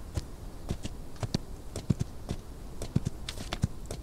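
Horse hooves in the Outlaws of the Old West game clop along at a steady walking rhythm, fairly faint against a low ambient background, with no voices over them.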